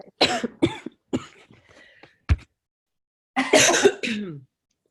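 Several harsh coughs in bursts, close and loud, separated by brief pauses, with a final cluster of raspy coughing near the end.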